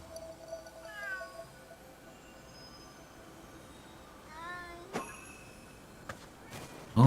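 Cat in Ghostwire: Tokyo gives several drawn-out meows, one near the start and another mid-clip, fairly close against a quiet game background, followed by a sharp click and a brief loud thump at the end.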